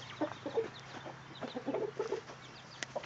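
Chickens and guinea fowl cluck softly while feeding, with scattered short calls near and far, one sharper note near the end, and no talking.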